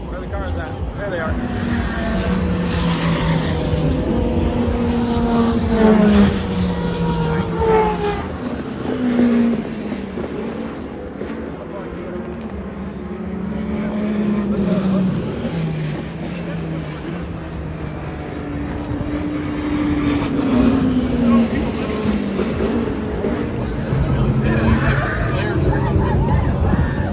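Race cars at the 24 Hours of Le Mans roaring past from a distance, a continuous wash of engine noise amid loud crowd babble and talking throughout.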